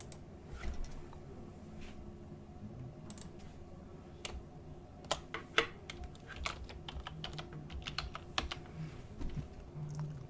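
Irregular clicks of typing on a computer keyboard while building a website, soft and close, in short uneven bursts with pauses.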